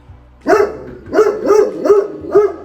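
A dog barks five times in close succession indoors, loud and near, each bark sharp with a short gap between, over a faint low hum.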